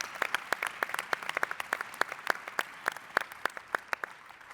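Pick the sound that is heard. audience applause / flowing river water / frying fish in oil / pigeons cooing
audience applause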